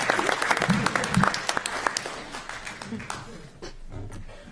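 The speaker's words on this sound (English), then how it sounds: "Round of applause for Kevin" City council meeting audience applauding a presenter, a burst of scattered clapping from a modest crowd that thins and fades over several seconds, with voices mixed in.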